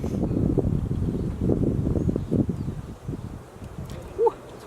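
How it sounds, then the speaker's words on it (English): Wind gusting outdoors at a glamping site, a steady low rumble of buffeting across the microphone that swells and eases, with a faint rustle near the end. "Ooh, it's windy."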